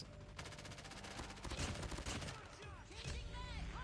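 Rapid hip-fire bursts from a QXR submachine gun in the mobile shooter Call of Duty Mobile, dense repeated shots filling the mix with a few louder cracks and ricochet-like whines, loud and continuous throughout.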